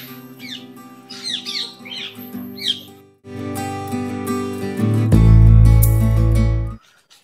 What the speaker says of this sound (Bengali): আমার পিছনে দেখতে পাচ্ছেন কি সুন্দর সুন্দর প্যারট পাখিগুলো, এগুলো খুবই সুন্দর। এর ভিতরে অনেক টিয়া পাখি রয়েছে।